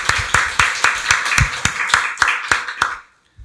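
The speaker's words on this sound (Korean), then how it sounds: "박수로 하나님께 영광 돌리겠습니다" A church congregation at a Sunday worship service claps in a steady, rhythmic beat about ten times, loud and close, then stops abruptly into silence.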